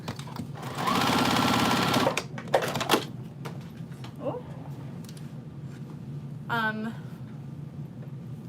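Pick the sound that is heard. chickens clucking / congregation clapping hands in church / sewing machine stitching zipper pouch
sewing machine stitching zipper pouch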